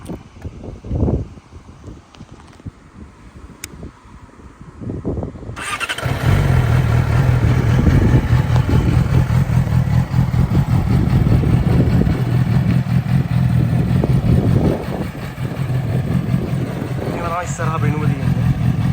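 A Yamaha R6 sport bike sits quiet through a few faint handling noises before its engine catches about five seconds in, then idles loud, steady and close for the rest of the time.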